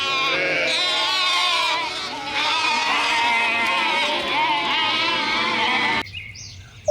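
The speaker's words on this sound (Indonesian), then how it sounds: "Keluarlah domba." A sheep bleats in an animal video game, loud, long and wavering close up, breaking off abruptly near the end.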